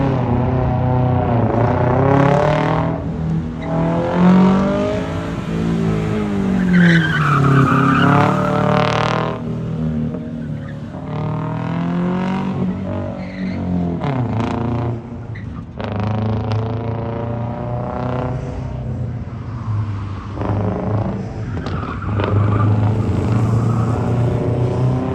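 A loud car exhaust with a Flowmaster muffler rumbles and revs repeatedly, the deep engine note rising and falling as the throttle is blipped, with no talking.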